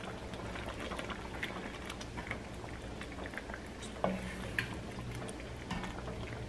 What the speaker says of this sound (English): The pumpkin chili has been simmering for 15 minutes